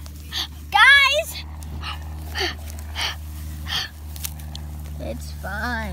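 A pet dog yips and whimpers in short, high bursts outdoors on grass, close by, with a steady low hum underneath and a few breathy sounds between the cries.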